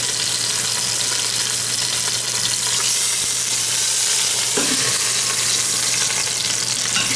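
Lamb shanks sear in an Instant Pot with a steady, dense, loud sizzle and a constant low hum underneath, broken by one brief clatter near the end.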